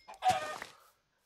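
A single short chicken cluck from a game, quiet and close, with a brief squawking tone that fades quickly.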